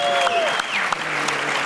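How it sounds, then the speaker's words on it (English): Audience applause at a D23 Expo Imagineering presentation on Cars Land, a steady burst of clapping from a large crowd lasting under two seconds. "pause for applause"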